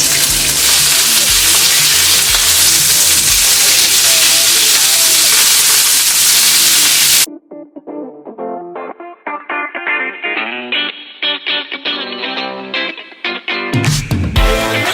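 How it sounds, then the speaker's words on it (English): Melted butter left from lobster tails goes into a hot pan with a loud, steady hiss and sizzle for about seven seconds, then cuts abruptly to music. "Empty up all this butter that we had from the lobster tails and just put them in this pan."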